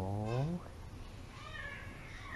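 A pet cat gives a single short meow near the start, close and fairly soft, followed by quiet room ambience.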